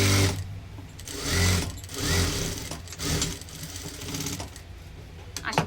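Sewing machine stitching a blouse, close-up bursts of fast mechanical whirring and needle clatter that start and stop in short runs, each a second or so long, with a pause between them.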